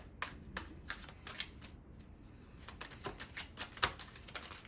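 A deck of tarot cards being shuffled close up, in repeated quick riffling bursts with brisk, papery snaps and flutters, quiet overall with one sharper snap near the end; no talking.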